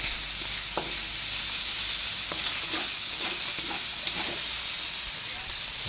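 Meat frying in a pan as its fat renders out, giving a steady, dense sizzle throughout with a few faint clicks and scrapes from stirring, close and fairly loud, with no talking.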